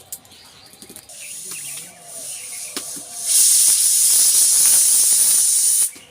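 A pressure cooker cooking chicken lets out one sustained, loud hissing whistle of steam from about three seconds in, following quieter kitchen clatter and faint background sounds.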